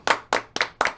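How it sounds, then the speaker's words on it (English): Four sharp, evenly spaced hand claps within a second, close and loud, a single person's brief round of applause for podcast guests. "A little round of applause."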